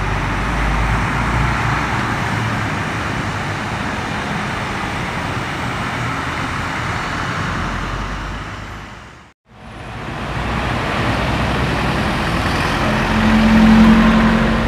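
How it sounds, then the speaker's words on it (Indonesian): A queue of trucks rolls steadily through a flooded stretch of the Pantura coastal road in Kendal, with continuous heavy engine rumble and roadway noise throughout and a brief dip to near silence midway before the traffic resumes. "untuk antrian truk pada sore hari ini melintas di lokasi banjir"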